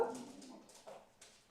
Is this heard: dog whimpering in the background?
yes